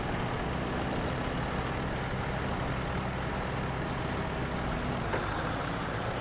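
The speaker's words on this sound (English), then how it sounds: "Probably just need to rev on over here and hope for the best" A truck engine in the SnowRunner game, driving in low gear through mud, gives a steady loud droning roar with a brief hissing burst partway through, and no voices.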